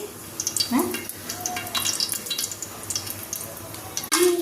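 Whole spices and bay leaf sizzle and crackle steadily in hot oil for chicken curry, a close, continuous frying hiss with occasional clinks of a utensil against the pan.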